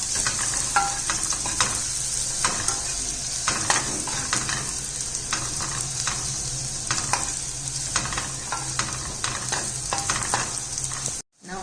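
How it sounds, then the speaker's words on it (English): Garlic sizzles in a pan with onion while cooking for cheese macaroni, a steady bright frying hiss with intermittent stirring scrapes, close and without talk, ending abruptly. "Now add to it garlic. Just cook for 2 minutes."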